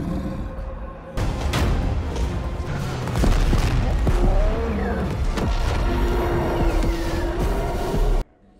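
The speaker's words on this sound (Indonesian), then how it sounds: "Semua tembakan sudah diluncurkan ke badannya si troll." Gunfire and blasts in a film battle against a stone troll, a loud dense barrage of shots, booms and whooshes mixed with action effects, cutting off abruptly at the end.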